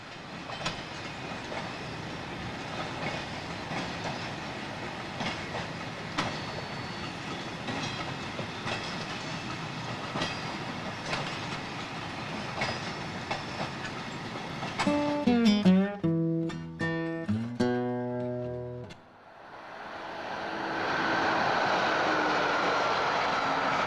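British Rail Class 87 and Class 47 locomotives in corporate blue livery passing; a long steady rumble with clicking wheel beats, then a loud rhythmic clickety-clack of wagons going by close, followed by a brief lull and a softer rushing tail.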